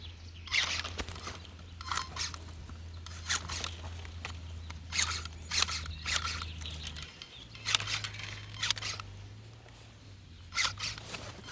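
Pruning shears snipping dry vine wood while pruning a Cordon Royat grapevine, with several sharp close snips and rustles spread irregularly over quiet background hum.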